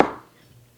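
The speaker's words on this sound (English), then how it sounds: "This time I'm chopping it with this chopper right here." A single sharp chop from a hand chopper cutting through an onion while making bread and butter pickle relish, a close, short thud that decays quickly into quiet.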